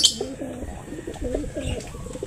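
Male pigeons in a breeding loft coo softly and steadily in low, rolling phrases. The calls are close and run continuously without any talking.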